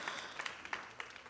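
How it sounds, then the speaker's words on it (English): A small group of meeting attendees claps faintly and briefly, a sparse handful of soft, uneven hand claps over a quiet room. "Would y'all like to give me a little excited clap about that one?"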